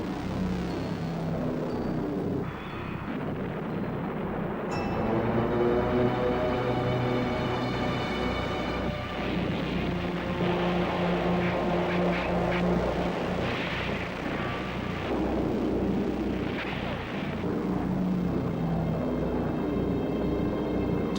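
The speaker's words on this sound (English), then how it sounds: "Allied aircraft ran riot over the area, rocketing and strafing the trapped German divisions." Allied fighter-bombers such as Typhoons attack trapped German divisions in 1944 Normandy, rocketing and strafing: a loud, continuous engine roar with tonal whine and dense rumbling bursts, steady throughout.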